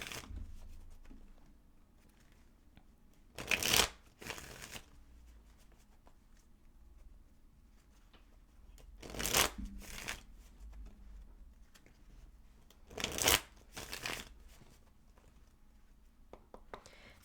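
A tarot deck is shuffled in three brief, crisp bursts of riffling cards spread over a quiet room, with soft handling sounds in between.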